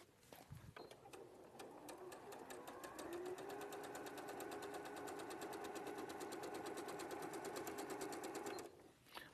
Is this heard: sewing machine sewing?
yes